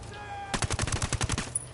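Rapid automatic gunfire in the video game Ghost Recon Wildlands, a burst of about a dozen closely spaced shots lasting roughly a second, fairly close and loud, with quiet game ambience before and after.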